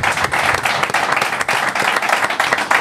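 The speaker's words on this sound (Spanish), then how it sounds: "un aplauso para la ruina de César" A live comedy audience breaks into loud, dense applause, close and continuous clapping with slight swells and dips throughout.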